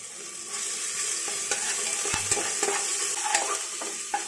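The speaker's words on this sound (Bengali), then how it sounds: "সেই গন্ধ বার হওয়ার সাথে সাথে আমি এখানে দিয়ে দেবো রসুন আর আদা কুচি" Chopped garlic and ginger frying in hot oil in a pan while being stirred, a steady close sizzle with scattered scraping clinks of the spoon against the pan, no talk.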